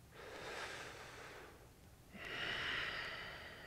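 Two deep breaths during a yoga-style recovery exercise, a long airy inhale followed by a stronger, brighter exhale, close and quiet with no talking.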